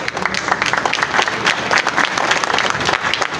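Applause for María at a Christian educators' training session, a dense crowd clapping steadily and fairly loud throughout, with no break.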